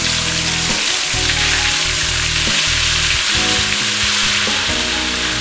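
Ginger garlic paste fries in hot oil in a pan with a loud, dense sizzle that runs the whole time, close and steady, over a low mechanical hum.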